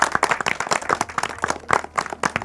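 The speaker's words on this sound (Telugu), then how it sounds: "అందరికీ ఒకసారి గట్టిగా చప్పట్లు కొడదామా?" An audience claps loudly and steadily for the winning teams of a devotional quiz event, a dense burst of many hands applauding close by with no talk over it.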